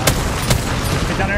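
Gunfire from the video game Apex Legends during a competitive tournament match comes as loud, dense bursts of rapid shots with sharp cracks, with voices talking over it.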